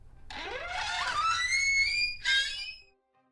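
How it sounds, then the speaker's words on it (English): A door opens slowly with a long, rising creak that bends upward in pitch and ends in a brief second squeal before fading into quiet, clear and up close with no voices. "Then the door opened slowly."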